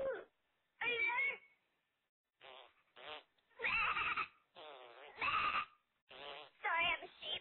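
A voice imitates a sheep bleating during a prank phone call, uttering a series of loud, close, wavering bleats and animal-like cries separated by short pauses.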